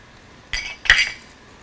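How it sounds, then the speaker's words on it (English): Two quick metallic clinks of a utensil against a mug stir egg yolk into brownie batter, close and clear in a quiet kitchen. "Now we're going to stir in that egg yolk."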